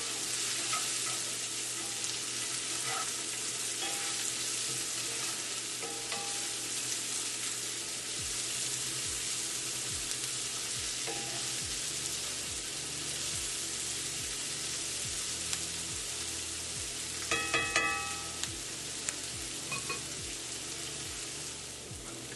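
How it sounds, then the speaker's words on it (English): Shakshuka sizzling steadily in a skillet while being stirred, with a constant frying hiss and occasional scraping and clinking of the spoon, loud and close. "Nice little stir."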